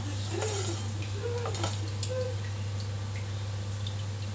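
Almonds with cashews, cumin, cloves, pepper and coriander seeds dry roasting in a pan over a low flame, soft scattered clicks and rattles of nuts and spices shifting, with a steady low hum underneath.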